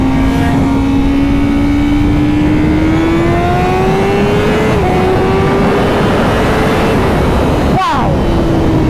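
A 200 hp Honda CBR 1000RR-R Fireblade SP superbike accelerating, its engine note rising steadily through the revs under smooth throttle, loud and close, with a brief whooshing dip near the end as the pitch settles.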